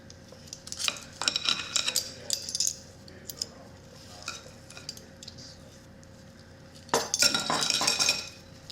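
A metal tablespoon and cutlery clinking in a home kitchen while baking sugar cookies: bright, close metallic chinks and scrapes in two bursts separated by a quieter pause, with no talking.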